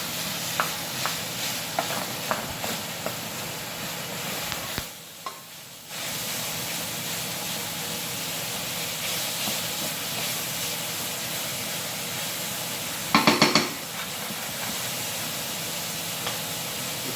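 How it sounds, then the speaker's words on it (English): Minced meat browns in a saucepan with a loud, steady hissing sizzle and frequent stirring scrapes, a brief dip midway and a quick rattling clatter later on, all close and without voices. "So the mince goes in, and we're just sealing the mince off. Make sure you stir it around to break it up."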